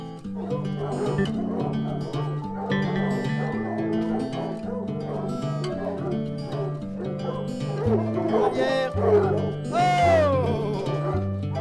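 French tricolour hunting hounds at a hunt in the Tronçais forest bark and yelp over a dense, continuous tonal backdrop that persists throughout, with louder yelps near the end.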